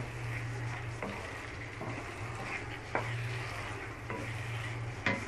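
Tomatoes frying in a kadai for mutton kadai gosht: a steady, quiet sizzle with occasional soft scrapes and taps of a stirring spoon against the pan, and no talking.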